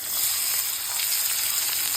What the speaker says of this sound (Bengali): এটাকে গোল্ডেন ব্রাউন ফ্রাই করতে হবে